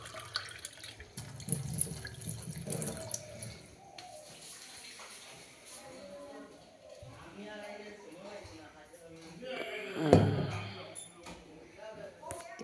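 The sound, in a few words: water running from a tap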